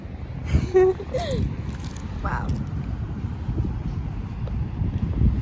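Wind at the beach buffeting the microphone in a low, steady rumble, with voices briefly talking and laughing near the start.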